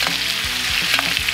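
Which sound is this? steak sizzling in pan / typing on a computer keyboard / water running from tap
steak sizzling in pan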